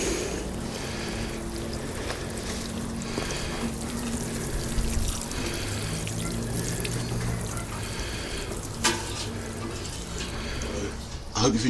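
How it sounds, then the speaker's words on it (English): Garden plants being watered to soak fish blood and bone fertiliser into the soil, a steady close stream of splashing water with faint tonal hum and occasional knocks beneath it. "Just water that fish blood and bone in."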